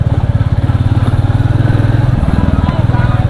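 A 2023 Royal Enfield Bullet 350 or Classic 350 motorcycle is ridden along a potholed road. Its engine thumps in a loud, close, rapid and steady rhythm.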